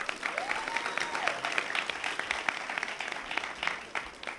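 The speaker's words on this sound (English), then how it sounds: "we should honor her and give her a round of applause as well" Graduation-ceremony audience applauding for an absent salutatorian, steady clapping from a crowd with a brief whistle or cheer near the start, moderately loud and sustained throughout.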